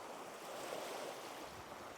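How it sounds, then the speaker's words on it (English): Sea waves churned up by strong wind off Koh Rong island in Cambodia, a steady broadband wash of surf with wind buffeting the microphone, continuous and moderately loud with no voices. "But with the wind, the waves picked up as well."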